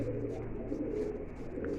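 Low, steady pigeon cooing fills the clip, several birds murmuring together in an enclosed pigeon loft with a continuous soft rumble.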